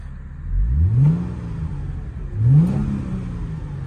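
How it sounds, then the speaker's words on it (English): Two quick throttle blips from a 2000 Mercedes SLK 320 R170 with an automatic gearbox, each a smooth rise and fall in engine revs over a quiet, steady idle. "I'll give it a little blip of the throttle."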